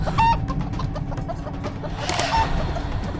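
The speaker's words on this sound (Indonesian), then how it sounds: "Malam-malam ada ayam berkokok sih." A rooster crows at night, its strained, wavering call rising and falling over a steady low rumble of background noise, fairly close and clear with no talk.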